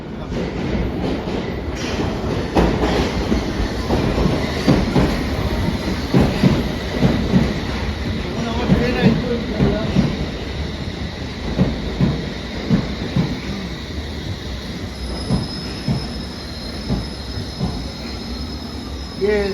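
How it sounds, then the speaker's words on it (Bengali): An underground train rolls along the rails with wheels squealing in long high-pitched whines, over a rumbling clickety-clack that swells and fades across the ride, with faint voices at times. "Yes, my train."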